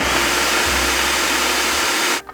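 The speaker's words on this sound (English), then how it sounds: "I love using the food processor to finally mince up my mushrooms" A food processor whirs loudly and steadily while mincing mushrooms in a kitchen, then cuts off abruptly at the end.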